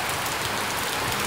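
Steady rain falls on a garden, a dense, even hiss of drops all through, close and unbroken, with no voices.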